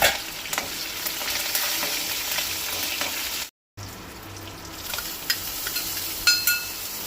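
Curry leaves hit hot oil already holding cumin seeds, setting off a bright, loud crackling sizzle that carries on steadily with small pops throughout, no voices.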